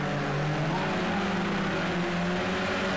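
A modern touring race car in the Project Cars 2 racing game, braking hard into a corner at Oulton Park, gives a loud, continuous engine drone with shifting tones that runs throughout.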